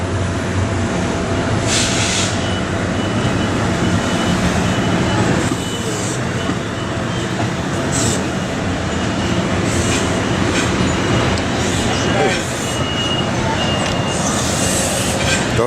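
A freight train rolls steadily past on the railroad, a continuous loud rumble of wheels and cars with rhythmic clatter and occasional squeal throughout.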